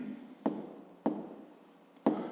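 Handwriting a math solution for a fifth-grade exercise: three separate, distinct pen-on-paper strokes heard close up, each a sharp scratch that fades, spaced about half a second apart in a quiet room.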